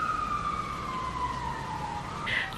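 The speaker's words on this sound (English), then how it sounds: "Sirens going off in the background" Emergency vehicle siren wails steadily in the background, a distant falling tone running through the whole stretch with no talk over it.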